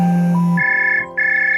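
A phone ringtone in a Hindi children's story cartoon starts as a low sustained tone, then shifts to a bright repeating electronic melody that plays loudly and alone, with a brief dip between two phrases.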